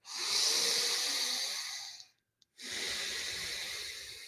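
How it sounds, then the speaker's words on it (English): Two long, close nasal breaths during a breathwork session, a loud airy inhale fading out, a brief silent pause, then a strong exhale through the nose. "Going to do 3 more breaths through your nose"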